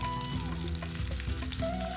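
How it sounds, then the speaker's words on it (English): Pork belly sears in a hot pan with a continuous dense sizzle and crackle, steady and close, with faint tonal ringing over the frying and no talk. "Just listen to that sizzle."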